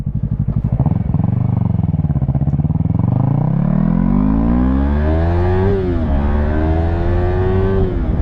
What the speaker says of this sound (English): look how much I gotta open that throttle to get this thing to go